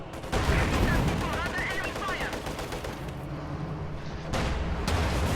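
Tank guns fire in a World War II strategy game as a StuG engages a T-34, with loud sustained bursts of gunfire and battle noise that cut out briefly and then resume, and a voice talks over them.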